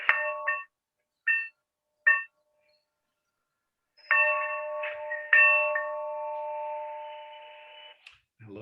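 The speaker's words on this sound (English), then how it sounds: "we're going to ring that bell" A small meeting bell struck with clear, tonal dings: three short separate strikes, then two longer ringing strokes that sustain and slowly fade, close and alone with no talk.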